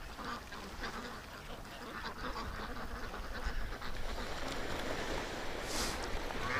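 A group of ducks quacking steadily by the water, close and continuous, layered over lapping waves and a constant outdoor wash of noise.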